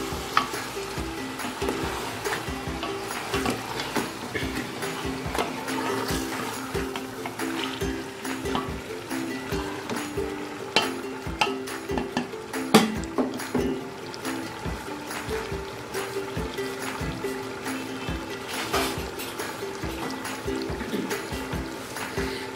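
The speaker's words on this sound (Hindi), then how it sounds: "अब इसको अच्छी तरह से हिला लेंगे, ताकि जो घी है वो इसको लग जाए।" Mutton pieces are stirred and fried in ghee for Peshawari namkeen gosht, giving a steady close sizzle broken by repeated scraping stir strokes throughout.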